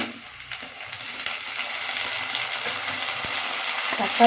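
Curry leaves and chopped tomato sizzling and frying in hot oil in a pan for a brinjal stir-fry, a steady soft crackle that holds throughout with occasional stirring scrapes.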